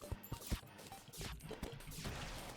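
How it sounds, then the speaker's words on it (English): Terraria's barrel cannon lets off a few heavy, punchy blasts in quick succession, then a rougher rumbling crash that carries on to the end. No one speaks. "It's a barrel cannon, but what are the barrels? It's also very loud"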